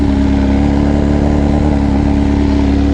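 A BMW S1000RR motorcycle fitted with an Akrapovic exhaust runs close and loud, its engine holding a steady, dense throaty roar with no clear pauses.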